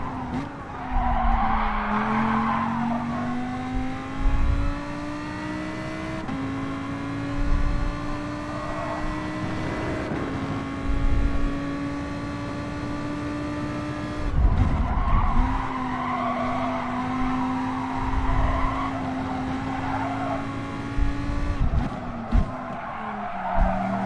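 Race car in Gran Turismo Sport braking hard, tires squealing in long loud skids over a sustained engine drone, repeating several times as the car slows into corners.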